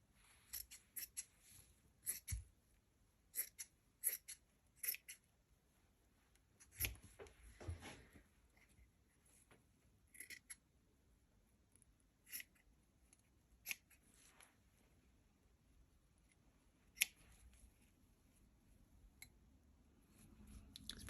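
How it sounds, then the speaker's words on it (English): Scissors cut through dress fabric during a dress transformation, giving quiet, close snips and rustles in scattered bursts with pauses between, faint overall and with no talking. "I'm going to cut this off here and then sew it."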